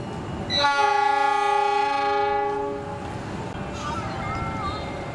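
A loud train horn blasts a sustained chord for about two seconds as extra passenger train 7008B departs in Indonesia, then fades as rumbling rail noise continues.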